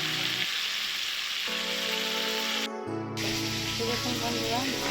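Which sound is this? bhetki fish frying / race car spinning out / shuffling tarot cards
bhetki fish frying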